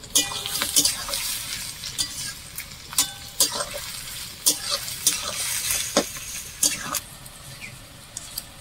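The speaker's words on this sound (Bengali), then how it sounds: "ভালো করে ভেজে নেবো।" Half-fried onion and capsicum sizzling in a pan for khichuri, with repeated scraping stirs from a spatula at an irregular pace over a continuous soft frying hiss, close and moderately loud.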